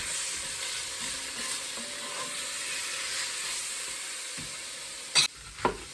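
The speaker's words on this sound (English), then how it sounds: "That was a lot of pepper. And we're gonna just let this sear." Stew meat searing in a pan, a quiet even sizzle and hiss with a couple of sharp clinks near the end, no one speaking.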